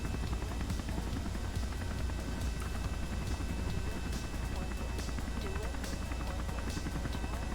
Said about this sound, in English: look at all my helicopter blades are acting like a wing right now